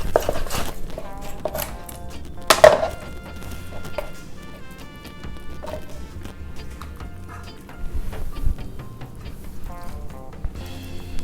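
Knife cutting cooked jerk chicken into pieces on a board, a handful of sharp chops and thunks at irregular intervals, fairly close, with background music underneath.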